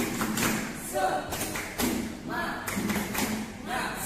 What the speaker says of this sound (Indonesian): Coba untuk membangkitkan semangat, tepuk semangat.